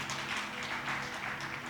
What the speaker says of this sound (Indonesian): Berikan tepuk tangan untuk Tuhan dong.